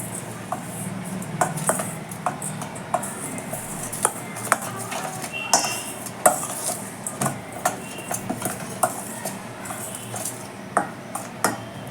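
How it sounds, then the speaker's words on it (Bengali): Beguni batter of gram flour and water stirred in a bowl, a steady run of light clinking taps as the spoon strikes the sides, close and regular over a faint background hum. "এবার আমি অল্প অল্প জল দিয়ে ভালো করে গুলে নিচ্ছি"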